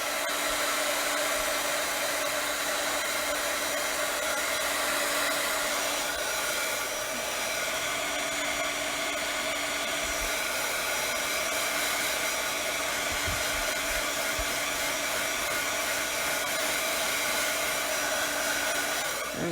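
Hair dryer blowing on a glittery poinsettia craft, a steady, close, continuous whooshing hum that runs unbroken with no talking.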